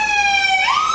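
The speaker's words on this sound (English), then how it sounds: "Turn off your sirens, turn off your sirens." A loud Houston police siren close by, its steady wail sliding upward in pitch partway through.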